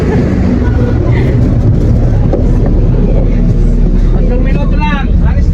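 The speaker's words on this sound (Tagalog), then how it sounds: "Oh, LRT." An LRT light-rail train rumbles past at close range in a barangay street setting, a steady broad roar with wind buffeting throughout, and people talking over it.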